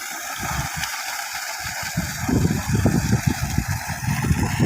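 Water from a 7.5 hp Ecozen solar pump gushes under pressure in a steady, rough rush, close and fairly loud, growing heavier and more turbulent after the first couple of seconds with no talking.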